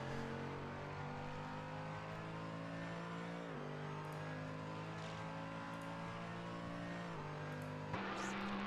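An LMP3 prototype race car engine in the Assetto Corsa racing game drones steadily at high revs, with brief dips in pitch at gear shifts, heard faintly and continuously without talk.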